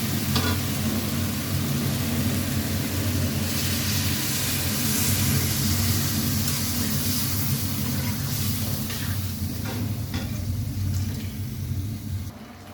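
Water poured into a sizzling potato and lentil curry, giving a continuous loud bubbling hiss with a low rumbling undertone that fades slightly toward the end, with no voices.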